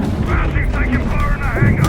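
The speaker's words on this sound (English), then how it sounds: "Taking fire from the helo." Heavy booming gunfire from an enemy helicopter thunders in Call of Duty MW3, dense and loud, overlapping with voices calling out in the game.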